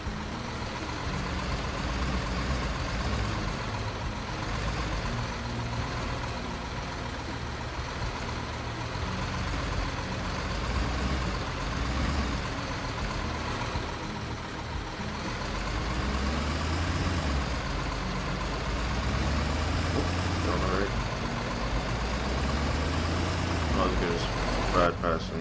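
A heavy truck engine rumbles steadily as it drives out of the depot in Construction Simulator 2015, a continuous low drone with faint beeping near the end, while someone talks over it throughout.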